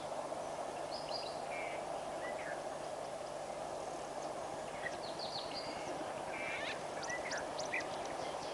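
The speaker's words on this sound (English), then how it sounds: "Sounds like a white-fronted bee eater now. That's also calling." A white-fronted bee-eater calls near a waterhole at King's Camp, giving short squeaky chirps in scattered bursts. The calls come through faintly over a steady hum of outdoor background noise.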